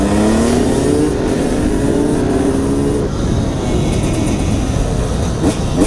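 A car engine revs hard under acceleration, its rising pitch climbing for about three seconds before giving way to a loud, rushing roar of engine and road noise as it shifts up a gear and pulls away.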